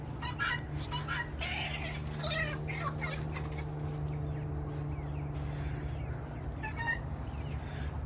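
Guinea fowl and chickens on a pasture-raised laying hen farm call in overlapping clucks and chattering cries, moderately near, over a steady low background hum.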